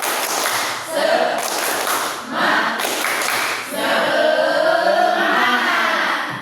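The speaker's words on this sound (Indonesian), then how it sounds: "Tepuk semangat." A school class performs the rhythmic 'tepuk semangat' spirit clap, with patterned bursts of clapping and chanted voices in a lively, echoing room.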